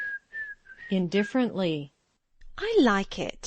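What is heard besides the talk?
human whistling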